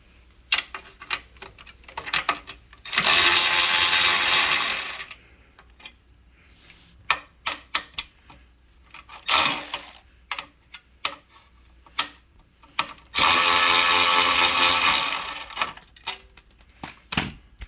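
A power ratchet removes bolts on a KTM 790 Adventure motorcycle, with loud, close whirring bursts of a few seconds each separated by sharp clicks and clinks of tools and parts being handled.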